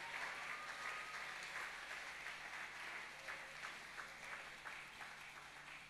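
A church congregation applauds for Jesus Christ, sustained steady clapping from a crowd at moderate distance, continuous for several seconds with no speech over it.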